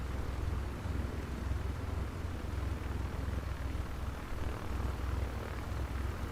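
Steady propeller-engine drone of a Cessna 172 taxiing out onto the runway, a constant low rumble with no breaks, heard from inside the cabin at moderate level without talk.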